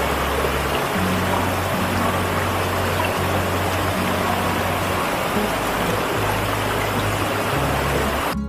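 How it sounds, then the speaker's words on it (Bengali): Rushing water at the Bhatinda waterfall in winter, a loud, steady, dense roar filling the whole clip with no pauses and no voices. "শীতকালেই যদি জলের গতিবেগ এতটা থাকে, একটু কল্পনা করুন বর্ষাকালে এই ভাতিন্ডা জলপ্রপাতের রূপ কি রকম হতে পারে।"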